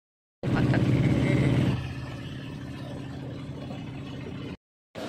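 A vehicle arrives in a village setting, its engine loud at first and then settling into a steady, moderate rumble as it drives on, with no voices.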